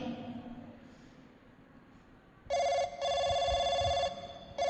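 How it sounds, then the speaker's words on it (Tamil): A telephone rings in bursts of a bright, repeated bell-like trill, loud and close, following a quieter stretch of low background murmur. "அவனுக்கு ஃபோன் அடிடா"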